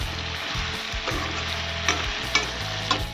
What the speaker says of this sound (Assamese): এতিয়া আৰু অলপ ফ্ৰাই কৰি থাকিম